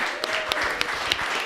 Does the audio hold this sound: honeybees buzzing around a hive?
no